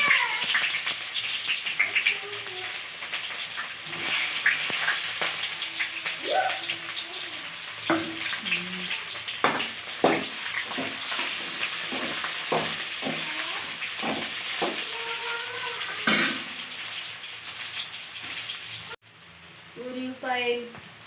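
Onions frying in a pan for fish curry (chepala pulusu), a continuous close sizzle with intermittent stirring scrapes and clatter, fairly loud.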